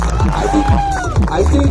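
Wedding guests cheer and whoop for the bridesmaid at Dean and Wilma's wedding, a loud, sustained crowd roar with shouting voices throughout.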